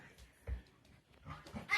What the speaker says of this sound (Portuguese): Aí o cachorro.